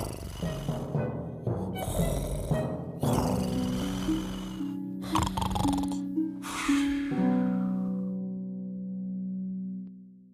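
Snoring sound effect in an animated telling of the Twelve Dancing Princesses fairy tale: a few rasping snore breaths set against sustained musical tones, ending in a held chord.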